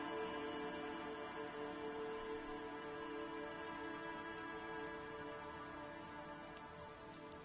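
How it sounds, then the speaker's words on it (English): Steady rain drips and patters from the netting of a trap among reeds in the video game Disco Elysium. It is a continuous, even wash of droplets throughout, with a faint tonal ambient bed beneath and no speech. "Rain drips from the netting of the trap."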